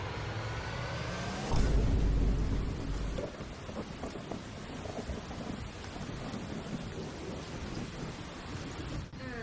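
Heavy rain pours steadily onto surfaces around a house, with a deep thunder rumble swelling early on before the downpour continues as a dense, even hiss.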